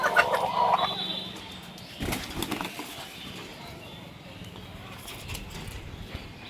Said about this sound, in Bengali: আর ঝগড়া করার আগে কিন্তু এরকম লেজটা নামিয়ে দেয় আর কক কক শব্দ করতে থাকে